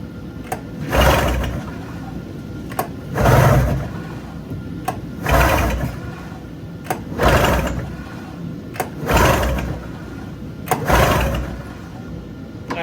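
A 1997 Arctic Cat 440 snowmobile engine is cranked repeatedly, about six strong surging bursts roughly two seconds apart, close and loud, with faint low mechanical noise between them.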